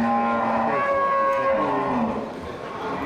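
Water buffalo at a livestock market full of young bulls, one long drawn-out moo with a clear low tone that holds and slowly bends downward, heard near and fairly loud over quiet background noise.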